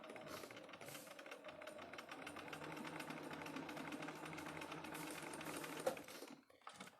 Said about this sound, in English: I'm going to sew with them on the table here and go right up underneath.